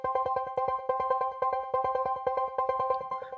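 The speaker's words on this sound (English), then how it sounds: "And then the arp that goes underneath." A synthesizer arpeggio patch pulses in a fast, even stream of bright, clipped notes repeating in a steady pattern, fairly quiet and with no voices.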